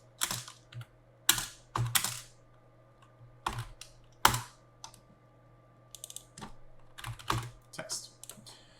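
Computer keyboard typing, close and fairly quiet, with irregular clusters of keystrokes and short pauses over a faint steady hum.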